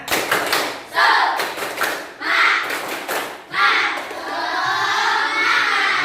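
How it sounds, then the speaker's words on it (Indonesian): A school class does a rhythmic spirit clap in patterned bursts of hand claps, with children's voices chanting along between and over the claps. "Coba tepuk semangat."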